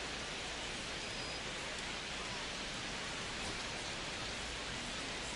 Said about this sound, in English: don't see a break in the storm coming anytime soon